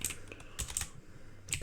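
Keystrokes on a computer keyboard come in three quick clusters of sharp clicks, each a short burst of several taps, close up against a quiet room background with no talking.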